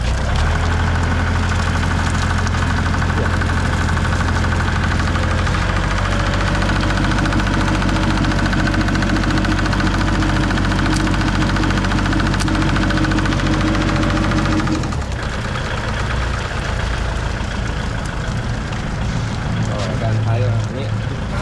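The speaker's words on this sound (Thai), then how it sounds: "เร่งเครื่องหน่อย" A 60–90 horsepower tractor engine with a mounted 170 mower and a 1,000-litre sprayer tank runs loudly and steadily, then its pitch drops as it settles back toward idle; voices are barely audible over it.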